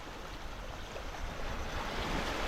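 Seaside ocean waves in a soft, continuous wash of surf with wind noise, building slightly toward the end and with no one talking.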